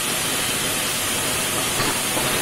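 Mint leaves sautéing in a hot pan give a loud, dense, continuous hiss that stays steady and close for the whole moment, with no voices over it.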